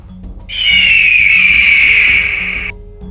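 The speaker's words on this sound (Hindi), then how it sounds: "This is eagle." An eagle gives one long, high, piercing call that holds steady for about two seconds with a slight downward slide, loud and alone over a faint low background.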